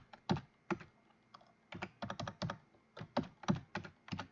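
Close, quiet keystrokes on a computer keyboard, tapped in short irregular bursts with brief pauses between them.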